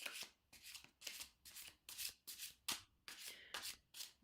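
A deck of cards is shuffled and drawn over and over in a steady rhythm of soft riffling swishes, about nine even strokes, close and quiet with no talking.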